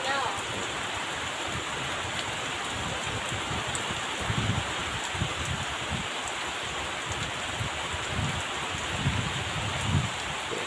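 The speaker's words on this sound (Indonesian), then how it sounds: "Hujan angin ya, sahabat ya." Wind-driven rain pours over a rice field, a dense continuous hiss of falling water with low gusty rumbles swelling beneath it, loud and enveloping.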